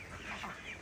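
Peking ducks at feeding time give a brief, faint, nasal quacking cluck lasting under a second.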